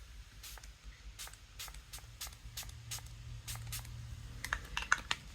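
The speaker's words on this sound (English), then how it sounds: "I'm just going to go in with setting spray." Several short bursts of makeup setting spray (Milani Make It Last Original) misted close by, each a brief airy hiss in an irregular sequence with quiet gaps between them.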